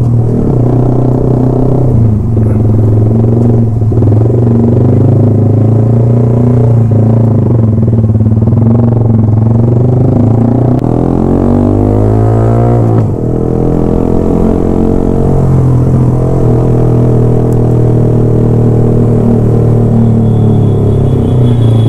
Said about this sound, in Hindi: एग्जॉस्ट तो बहुत ज़्यादा लाउड है यार